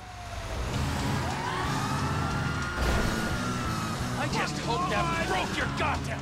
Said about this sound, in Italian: Oh, la volante dei carabinieri.